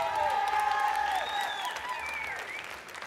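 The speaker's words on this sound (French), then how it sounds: "On vous demande d'encourager très très fort Marco de Souza Rosa" Applause and cheering rise from an audience at a barista championship as a competing barista is introduced, loud and sustained for a few seconds while an announcer's voice carries over the crowd.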